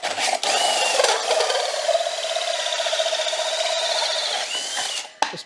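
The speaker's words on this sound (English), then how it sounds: "this next bit is just lots of me drilling out 4-inch holes with this hole saw" A power drill fitted with a 4-inch hole saw cuts steadily, a sustained whirring, grinding buzz lasting about five seconds, with brief stops at the start and a clunk at the end.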